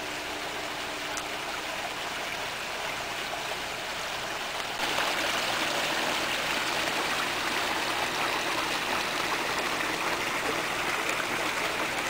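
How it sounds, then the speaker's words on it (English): Water trickles and splashes steadily down a small backyard stream waterfall beside a house, a soft, continuous wash that grows slightly fuller partway through, with no voices. "And there's the top of the waterfall."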